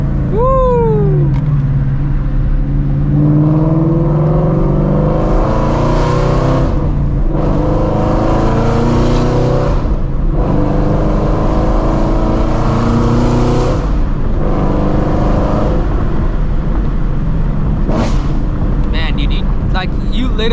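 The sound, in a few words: Shelby GT350 Mustang engine revving while driving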